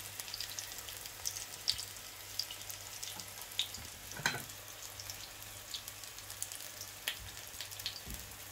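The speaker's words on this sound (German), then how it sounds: "So, jetzt wird das alles gebraten." Spinach fritters fry in a pan with a soft, continuous crackle and scattered sharper pops, close and moderately quiet, with no talking.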